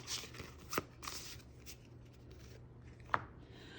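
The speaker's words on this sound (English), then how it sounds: "We will then shuffle up the mood card into the mood deck." Board game mood cards being shuffled into a deck, soft faint papery riffles and light taps in a quiet room, a few brief bursts with no talking.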